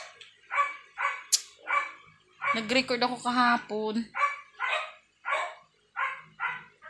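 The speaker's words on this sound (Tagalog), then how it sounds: "Ingay ng aso." A dog barks repeatedly in short, loud yaps, nearly once every half second, with a brief whining, whimpering stretch in the middle. Spoken Tagalog voices are mixed in.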